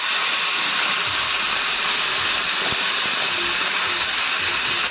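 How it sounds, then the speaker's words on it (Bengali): A bay leaf and whole spices fry in hot oil with a loud, continuous close-up sizzle, a dense steady hiss with a few faint pops and clicks scattered through it. "এই তেলের মধ্যে আমি একটা তেজপাতা আর গোটা মশলা অ্যাড করে দেব। মশলাটা একটু ভাজা হয়ে যাবে"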